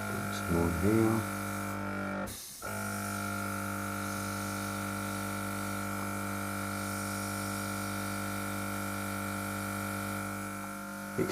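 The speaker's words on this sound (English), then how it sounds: "Excuse the noise of the compressor." Small airbrush compressor runs with a steady, loud electric hum and buzz during miniature painting, briefly cut near the start, with a short spoken comment before it settles into a continuous drone.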